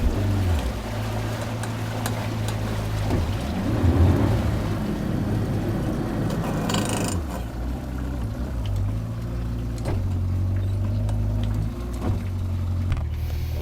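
A launch boat motor drones steadily at close range throughout, with occasional rises in pitch and some splashing water mixed in.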